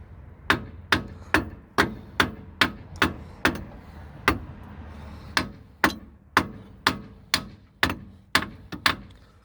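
A big hammer strikes metal in a steady series of sharp, ringing blows, about two per second, tapping a front strut off the hub of a Peugeot 107/Citroën C1/Toyota Aygo, close and loud with no talking.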